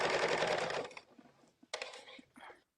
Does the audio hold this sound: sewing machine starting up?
yes